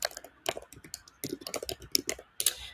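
Fingers typing on a computer keyboard, a quick close run of irregular key clicks in short bursts, moderately quiet and with no talking.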